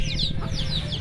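Chickens cluck and call near the microphone in a rural hilltop village, with a steady run of bird chatter over a constant low background hum.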